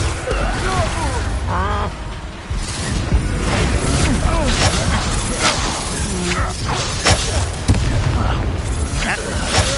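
An Expulso spell explosion in the video game Hogwarts Legacy bursts amid chaotic combat, with repeated booms, crashes and clattering debris and bits of voice woven through.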